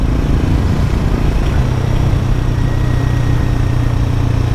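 Triumph Scrambler 400 motorcycle engine on overrun while riding a forest road, a steady low rumbling drone with slight burbling, close and continuous, no talk.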